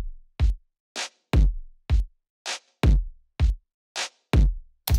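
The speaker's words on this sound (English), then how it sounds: "Notice that I'm using the drive to saturate this bass drum." A clean, unsaturated bass drum pattern alternates with brighter percussive hits in a steady rhythm, each kick a loud, deep thump with a quick decay into silence, heard alone.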